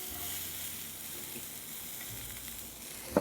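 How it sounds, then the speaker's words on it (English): Diced onion and garlic frying together in a pan without oil, a steady close sizzle with faint stirring clicks and a small knock at the end. "we are going to fry our onions and garlic together a little bit"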